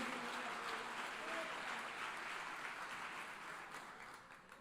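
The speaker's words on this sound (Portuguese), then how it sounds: "Quem crê nesta palavra, aplauda o nome do Senhor" A church congregation applauds together, a broad steady wash of clapping that fades toward the end, with some voices mixed in.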